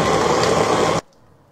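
An electric food chopper grinds pork belly with a loud, steady whirring roar for about a second, then cuts off abruptly into near silence.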